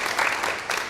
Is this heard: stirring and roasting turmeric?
no